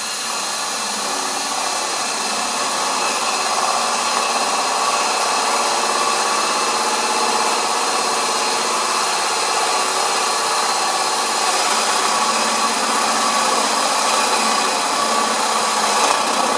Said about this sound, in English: I'm going to drill straight through